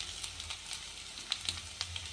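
Steady sizzling of potatoes and onions frying in a pan, a soft continuous hiss with small crackles and pops, close and alone.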